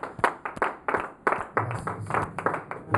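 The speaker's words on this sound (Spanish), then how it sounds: "Denle un aplauso, Padre." A church congregation applauds during a Christmas sermon, irregular bursts of clapping rising and falling close by for a few seconds, with scattered voices mixed in.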